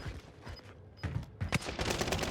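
Gunfire in Call of Duty Warzone on Rebirth Island, with a Finn LMG: short bursts of rapid shots growing louder toward the end, mixed with clattering game effects and no clear speech.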